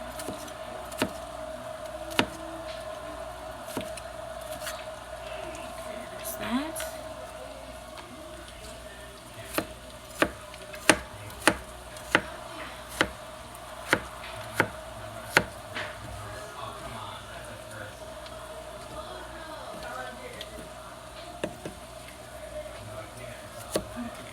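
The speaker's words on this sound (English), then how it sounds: "I'm going to run the knife back over this again, over this section of onion, just because I want to make sure that it's chopped all the way" A knife chopping onion on a cutting board, sharp irregular taps clustered in the middle, fairly faint against a quiet kitchen background with a voice talking.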